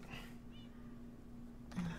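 A cat in the video game Minecraft gives a short, thin meow early on, set over a steady low hum of game sound, with a brief louder burst near the end.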